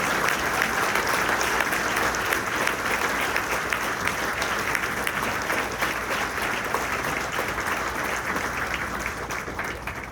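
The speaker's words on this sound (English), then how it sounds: "Please give a big round of applause" Audience applause at a graduation ceremony honoring a memorial award recipient, a broad, even roar of many hands clapping that holds steady for ten seconds before easing slightly at the end.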